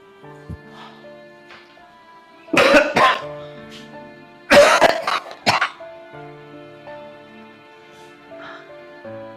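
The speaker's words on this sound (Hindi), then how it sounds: "खांसी भी मेरी जान लेके जाएगी अब तो" Two bursts of harsh, wheezy coughing, close by, separated by a short pause, over a faint steady background hum.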